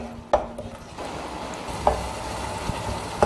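Tomato masala with chilli and spice powders frying in a pan while being stirred, a steady soft sizzle broken by a few sharp scrapes of a spoon against the pan.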